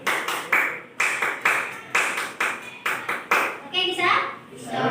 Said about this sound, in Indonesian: Dan yang kelima, direnggangkan tepuk pramukanya.